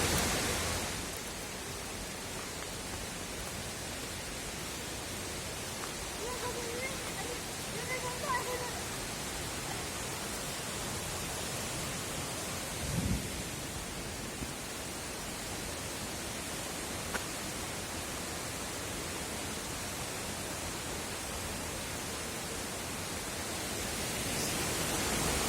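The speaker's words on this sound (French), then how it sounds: "Ça, c'est une cascade. La cascade des Tuffes." The large Cascade des Tuffes waterfall in the Jura, France, pours with a steady, moderate broadband roar heard from some distance, with faint brief voices and a few small knocks over it.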